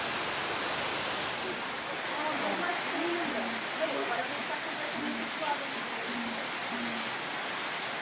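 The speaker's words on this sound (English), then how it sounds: "it pours" Heavy rain pours down at the Angkor temples in Cambodia, heard from shelter inside a small stone tower as a steady, dense roar that never lets up, with faint murmuring voices underneath.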